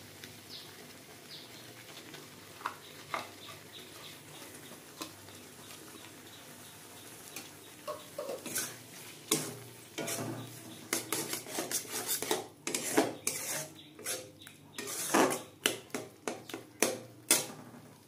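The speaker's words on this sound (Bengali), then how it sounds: "এটা একটু ভালো করে নেড়ে চেড়ে শুকনো করে নেব।" Chhana being stirred in a pan with melted sugar and cardamom for mango sandesh. Faint at first, then a spoon scrapes and clinks against the pan in irregular bursts, growing busier toward the end.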